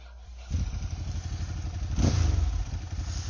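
A Ducati 749 motorcycle engine cranks and catches, settling into a loud, lumpy idle with a brief rev, close by and alone.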